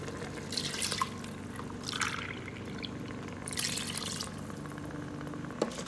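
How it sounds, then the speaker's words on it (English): Water pours into an Instant Pot over rice in uneven splashing surges over a steady background hum, ending with a small clink. "For 2 cups of rice, add 2 cups of water"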